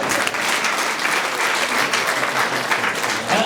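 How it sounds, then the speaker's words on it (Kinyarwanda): A wedding crowd applauds in a steady, dense burst of clapping that stays loud throughout, close and continuous with no pauses. "ndagukomera amashyi menshi"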